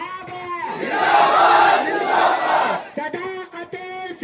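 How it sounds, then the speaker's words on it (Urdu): A crowd at a protest sit-in rally in Parbhani, Maharashtra, roars a loud chanted slogan in unison. A single amplified voice leads before and after the shout. "آپ نے زندہ باد کے نعرے لگانا"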